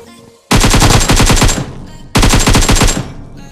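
Automatic gunfire in the mobile shooter game PUBG Mobile comes in two loud, rapid bursts of about a second each, separated by a short pause.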